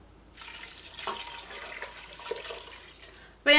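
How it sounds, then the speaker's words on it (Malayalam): Water poured into a pot of simple potato curry, a broad steady splashing stream running for about three seconds before a sharper, louder burst at the end. "ഇതിലേക്ക് വെള്ളം ചേർക്കാം."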